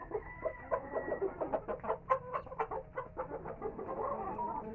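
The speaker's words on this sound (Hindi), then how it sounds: "Pure black आस्ट्रोलर्प।" Pure Black Australorp chickens cluck in a steady run of short, rhythmic calls close by, with a busy farmyard murmur beneath and no talk.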